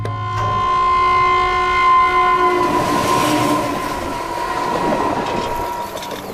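A train at Old Delhi railway station sounds a long, loud steady horn that fades into the clatter and rumble of rolling railway cars, with no voices.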